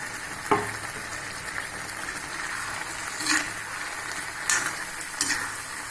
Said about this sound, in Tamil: இப்போ நம்ம காலிஃப்ளவரை போட்டுடலாம்